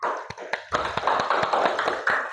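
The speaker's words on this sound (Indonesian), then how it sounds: "beri tepuk tangan dulu untuk kelompok 4" A classroom of students claps for a student group after its presentation, brisk scattered hand claps building into a steady patter of applause, close and moderately loud.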